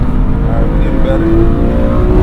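A BMW M2 with an inline-six engine revs steadily toward redline during spirited driving, its sustained engine drone and rising harmonics filling the cabin at close range, loud and continuous without pause.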